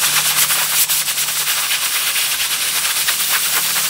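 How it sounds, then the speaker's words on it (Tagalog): A pressure cooker vents steam in a steady, loud, continuous hiss with slight fluctuations, used while cooking beef tripe for about 45 minutes. "Siguro mga 45 minutes sa pressure cooker po."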